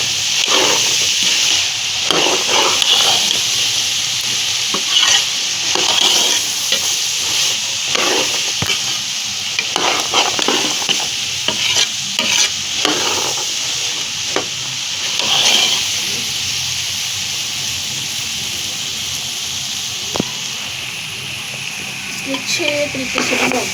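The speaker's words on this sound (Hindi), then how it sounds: "ये देखिए चने गल भी गए हैं, तो हम इसकी बुनाई कर लेते हैं अच्छे से।" Boiled white chickpeas are roasted and stirred in a pan, making a steady sizzling hiss with repeated scraping stirs throughout, while a person talks over it.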